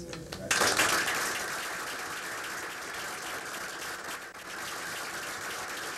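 Steady applause from an audience at a school board meeting, beginning with a sharp swell and holding as a dense wash of clapping for several seconds, with a brief dip near the end.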